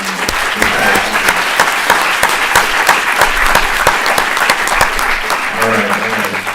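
An audience claps for Dorsey at a harm reduction event, loud, dense applause with sharp individual claps sustained from start to finish, a voice briefly audible near the end.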